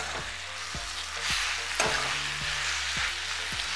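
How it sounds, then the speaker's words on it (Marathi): Chopped hadga (agathi) flowers stirred into masala in a pan over low heat, a soft continuous sizzle with regular spatula scrapes and knocks about every half second, close and without talk. "ही कापलेली हदग्याची फुलं टाकूया। असं व्यवस्थित हलवून घ्यायचं सगळं"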